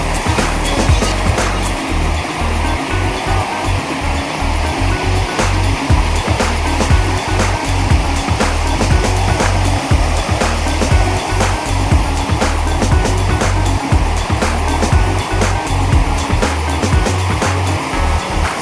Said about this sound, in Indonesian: Nah ini ombaknya pemirsa